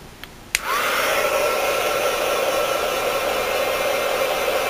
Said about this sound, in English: excuse the noise of my heat gun